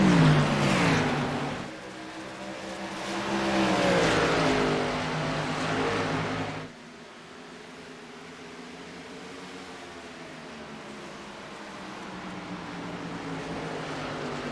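Ford Mustang stock cars racing in a sim-racing series video game, engine drones rising and falling in pitch as cars pass and accelerate, loud at first, then a quieter steady engine hum after an abrupt cut.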